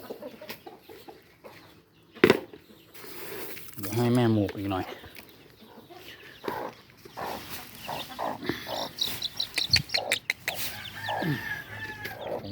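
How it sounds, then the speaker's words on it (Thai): Farmyard hen clucking to her chicks at evening feeding time, with short clucks and bird calls mixed with someone talking nearby and scattered rustling. "มันลูกไก่มันก็จะโตขึ้นมาเรื่อย ๆเนาะ แม่มันก็จะสอนกินนะครับ กุ๊กกุ๊กเนี่ย"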